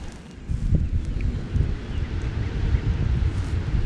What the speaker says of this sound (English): The wind's picking up a little bit.